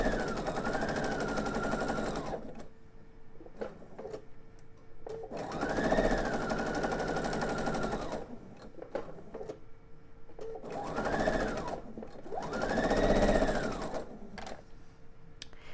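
A sewing machine stitches quarter-inch seams on quilt pieces for a table topper. It runs in several steady bursts of close, whirring stitching, separated by short pauses.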